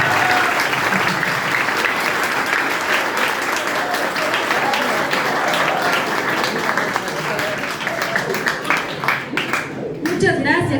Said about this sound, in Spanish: Recibe este fuerte aplauso merecido